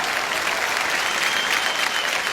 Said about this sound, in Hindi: तो जियो के लिए एक बार जोरदार तालियां हो जाएं।